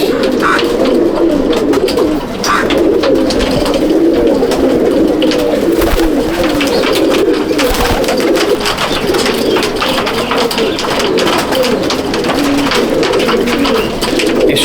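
Dozens of closely related loft pigeons burble and coo without pause, a loud, near, overlapping drone of low throaty calls lasting throughout, with no one talking.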